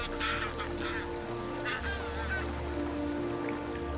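Magellan geese honk in open wetland grassland, several harsh calls coming in bursts over a steady low background rumble, fairly close and clear.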